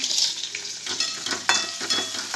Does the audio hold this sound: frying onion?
yes